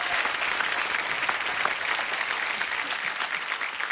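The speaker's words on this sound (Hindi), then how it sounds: "जोरदार तालियां डॉक्टर कुमार विश्वास जी के लिए।" Strong audience applause for poet Dr. Kumar Vishwas on The Kapil Sharma Show, a steady, dense clapping that fills the whole stretch with no voices over it.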